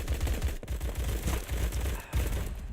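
Semi-automatic rifle fire from the video game Phantom Forces, a rapid string of loud, overlapping shots and echoing cracks that runs the whole time with brief gaps.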